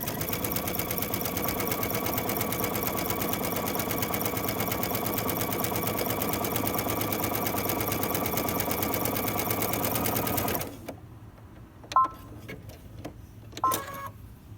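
A sewing machine runs a finishing stitch along the edge of knit fabric, a steady, fast mechanical whir and needle patter for about ten seconds, then it stops and a few faint clicks follow.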